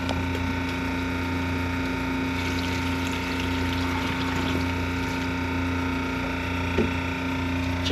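A boat's watermaker pump runs steadily as it fills the water tank, a continuous loud mechanical hum and whine with a few faint clicks and rattles on top, close by and with no one speaking.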